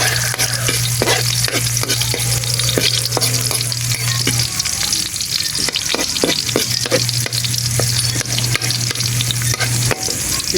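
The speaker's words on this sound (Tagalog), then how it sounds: "at ako po ay magigisa na po ng bawang" Garlic sautéing in a pan, a loud, dense sizzle with constant crackle and repeated stirring scrapes, close up, with a low hum underneath.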